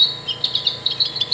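A Wild Republic Audubon plush eastern towhee plays its recorded call: a quick series of bright, high chirps, repeated in a steady rhythm and fairly loud against a quiet background.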